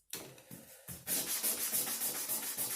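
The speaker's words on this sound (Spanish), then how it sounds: "nosotros tenemos que lijar en un solo sentido" Close sanding in a craft class, strokes running in one direction: a few short rasps at first, then a continuous, louder scratchy rubbing with a steady pulsing rhythm. No one speaks.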